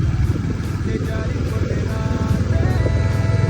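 A Hunter motorcycle's exhaust note throbs loud and close, a steady low, pulsing engine rumble idling or cruising in traffic without pause.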